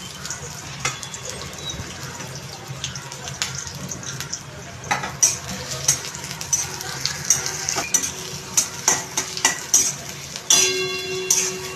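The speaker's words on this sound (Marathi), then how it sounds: "असं कांदा टाकायचा चांगलं सोनेरी कलर येईल तोपर्यंत हे पण तळून घ्यायचा कांदा" Onion fries in a pan until golden, making a steady sizzle with a run of regular, rhythmic stirring taps and scrapes, loudest toward the end.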